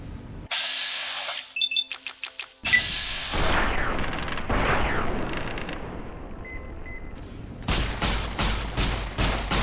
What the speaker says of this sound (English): The guy's gonna shoot rockets at me.